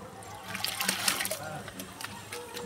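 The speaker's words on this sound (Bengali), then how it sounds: "জলটা কলটা খুলে দাও" Water runs from an opened household tap, a wavering trickle and splash that swells and fades, heard under a person talking nearby.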